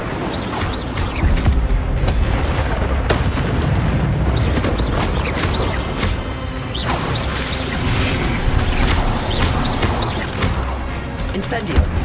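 Incendio fire spells cast repeatedly in Hogwarts Legacy combat, heard as a dense run of whooshing bursts, booms and crackling impacts spread across the whole stretch, with game effects layered on top.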